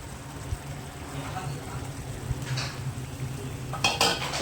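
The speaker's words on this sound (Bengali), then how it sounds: "ভালো করে নেড়ে ছেড়ে নেব" A spoon stirs boiled snake gourd in a frying pan while a sesame dish is cooked. Quiet scraping and light clinks of utensil against pan come through faintly, with a couple of sharper knocks near the end.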